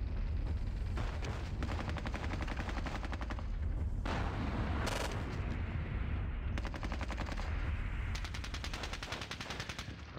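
Dense, continuous gunfire mixed with heavy explosive blasts in the war game Squad Battles Red Victory at Ponyri, with rapid machine-gun rattles and booming impacts sustained loudly throughout.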